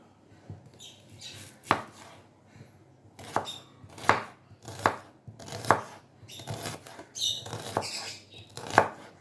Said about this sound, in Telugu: ఇప్పుడు ఉల్లిపాయ కట్ చేసుకుందాం